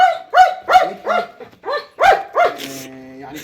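A guard dog offered for sale barks in a fast series of loud, close, sharp yelps, several in quick succession, then trails off into a higher whining whimper.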